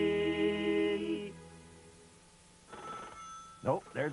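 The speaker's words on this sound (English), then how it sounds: "Nope, there's the phone. I'll get it." A telephone bell rings in a steady trill, then fades under a quieter stretch, followed by a few brief voice sounds near the end.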